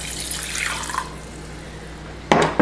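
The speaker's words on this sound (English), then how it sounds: "You're going to add 1 cup of water." One cup of water is poured into a pot holding half a cup of converted rice. A steady splashing pour runs for about a second, then a brief clear splash of liquid follows after a pause.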